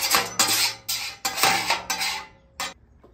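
A metal spatula scraping burnt bacon fond off a griddle coated in leftover bacon grease, several loud, close scrapes in a broken rhythm that trail off at the end.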